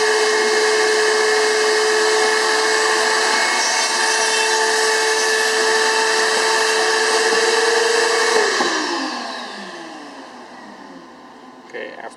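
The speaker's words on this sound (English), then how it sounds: "Vacuum's in, and the drill comes in." Automated drill with vacuum suction working on a rotator body spring, a loud steady machine whine and hum that winds down toward the end, followed by a couple of faint clicks.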